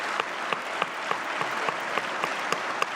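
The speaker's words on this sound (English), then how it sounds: "Clapping." A crowd gives steady applause, with many hands clapping in a dense, continuous wash and a few sharper claps standing out.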